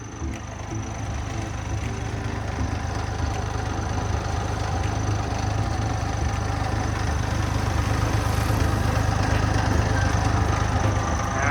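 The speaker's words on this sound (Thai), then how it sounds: "จะมีเสียงสายพานที่หย่อนนิดนึงนะ ครับเสียงจะดังที่จิ๊ดๆนะครับ" Steady idle of the Isuzu engine in a TCM 840 wheel loader, a continuous low rumble with a faint high-pitched squeal from a slightly loose belt running throughout, close and unbroken.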